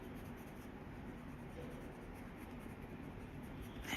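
Soft, steady scratching of Caran d'Ache Pablo colored pencil strokes on paper while coloring leaves, faint and close, continuing without pause.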